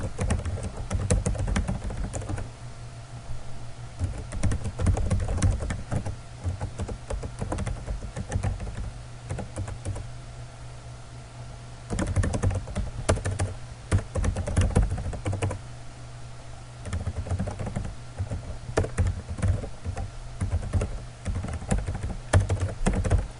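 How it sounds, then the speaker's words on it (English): Fingers type rapidly on a computer keyboard close by, producing dense bursts of clicking keystrokes with short pauses between runs, alone and without any talking. "So I'll just go ahead and type mine real quick."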